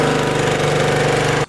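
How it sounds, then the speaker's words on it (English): A small gas pressure washer engine runs loud and close, a steady rapid pulsing drone that cuts off abruptly just before the end. "on a gas pressure washer, it's constantly running, and even with a very small motor, it makes a lot of noise"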